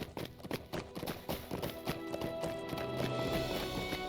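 Horse hooves clip-clop at a gallop while riding in the online game The Lord of the Rings Online, a steady rapid rhythm over game music and ambience, with no talking.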